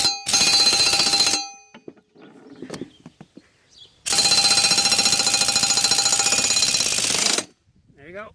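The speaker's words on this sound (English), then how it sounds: "But with the impact wrench, put it on." An impact wrench loosens the mower blade bolt on a Cub Cadet LTX 1046 lawn tractor deck in two loud, rapid hammering bursts, one short and one several seconds long, separated by quiet clinks and a brief voice.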